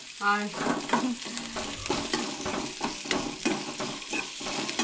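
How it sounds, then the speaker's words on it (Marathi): Onion and garlic fry in a pan for a Goan sprouted moong curry, a steady sizzle broken by rhythmic stirring scrapes of a spoon, close and moderately loud. "तो कांदो आनी लसूण पयलीं भाजून घेवंक जाय, हलकीशी परतून घेवंक जाय."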